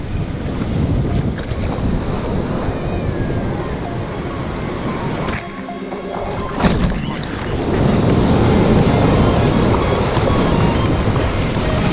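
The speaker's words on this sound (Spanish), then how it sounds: "Ah, ¿qué tal la tormentica que se avecina?" Strong wind and rough, churning sea on the Pacific coast ahead of an approaching storm, a loud continuous roar with gusts buffeting the microphone, a brief lull midway, then heavier surf.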